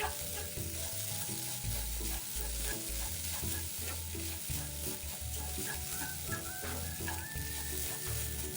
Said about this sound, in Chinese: 将这简单调味料继续拌炒均匀